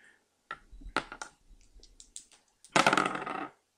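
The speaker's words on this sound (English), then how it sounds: "Roll the dice." Dice tossed onto a table, a few light clattering taps followed by a louder rattling tumble near the end before coming to rest.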